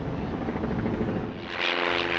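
A small aeroplane drones steadily overhead with a rough, buzzing propeller engine, loud and continuous, its pitch shifting slightly as it passes.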